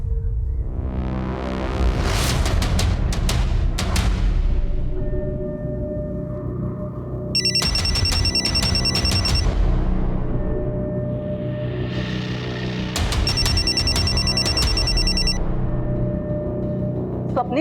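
An electronic phone ringtone trills in two separate bursts, layered over sustained dramatic background music in a TV crime drama.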